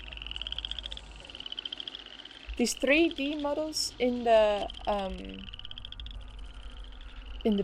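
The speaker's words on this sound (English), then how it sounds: "It's the place of frogs." Frogs croak in a video game walkthrough of Xilitla, a rhythmic pulsing chorus with sharper individual calls mixed in, close and fairly loud while someone talks over part of it.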